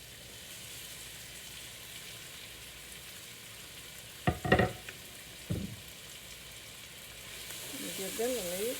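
Peppers, onions and tomatoes fry in a skillet with a steady low sizzle, broken by a couple of louder clattering stirs midway, and a voice speaks briefly near the end.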